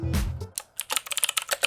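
Someone types a Wi-Fi password on a computer keyboard. Crisp, close keystrokes come in quick irregular bursts after a brief low thump at the start.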